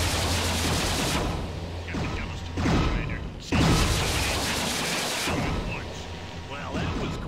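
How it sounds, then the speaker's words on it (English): Missiles launching from a mech in MechWarrior 3, a dense rumbling roar of volleys and mechanical whirring that surges in bursts across the stretch, with a steady low engine drone beneath. "there goes some missiles"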